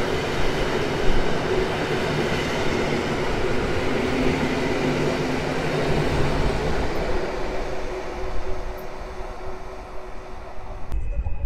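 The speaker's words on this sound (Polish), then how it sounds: "Przelot pociągu służbowego kolei mazowieckich" A Koleje Mazowieckie service train heading to Warszawa Główna rolls past, giving a sustained heavy rumble with faint wheel squeal that slowly eases before a short clunk at the end.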